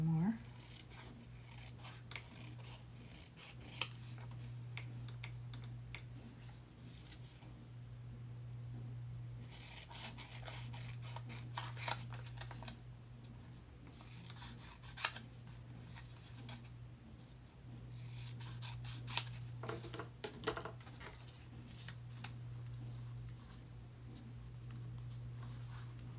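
Scissors snipping and rubbing against paper while a junk journal label is trimmed down, close and soft, in short scattered cuts over a steady low hum.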